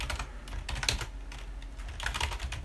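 Rapid clattering keystrokes on a computer keyboard while code is written, a steady close run of taps with a few louder bursts, alone with no talking.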